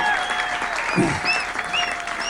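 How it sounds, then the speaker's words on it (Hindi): Applause rings out from the crowd under a pandal at a Hindi comic poetry gathering, loud continuous clapping from many hands, with faint crowd murmur and a brief low vocal sound mixed in. "तालियां बजा दीजिए।"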